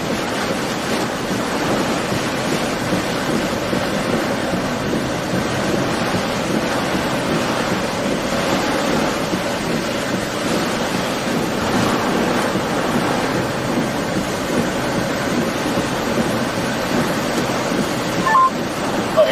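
Strong, steady wind roaring across a microphone outdoors during a severe weather storm chase near a mall parking lot, a constant loud broadband rush with no pauses and no talk.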